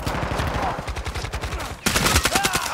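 A shooter video game bursts with loud, rapid automatic gunfire: a steady rattling run of close shots, a brief dip, then a heavier, denser burst.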